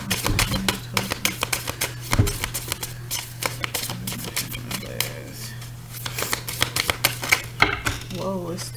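A large deck of tarot-style playing cards spilling and scattering onto the floor during a card reading, a rapid clatter of many light slaps and flicks over a steady low hum, with a voice briefly speaking.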